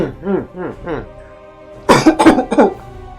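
A person speaks briefly, then coughs several times in a rough cluster, close and loud.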